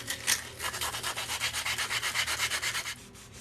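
A resin glitter mechanical pencil is buffed down by hand in quick, even back-and-forth strokes, a close, soft, rhythmic rubbing with no talking.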